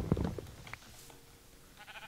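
Sheep in Minecraft giving a short bleat, followed by quieter faint sounds, soft and near with no talk.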